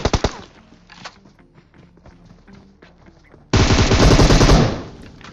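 Gunfire in a battle royale mobile game at a military base: a burst of shots opens, scattered faint pops and in-game sounds follow, then a loud sustained automatic burst erupts near the end.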